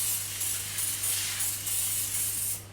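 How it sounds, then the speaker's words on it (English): Extra virgin olive oil being sprayed onto tuna Scotch eggs, with a series of short, close hissing spray bursts in a quick rhythm before it stops. "Now what I do is I spray it with some extra virgin oil."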